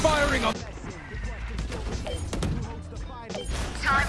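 Gunfire from a shooter video game, with repeated shots and thuds scattered through a busy mix, along with game effects and voices talking over it.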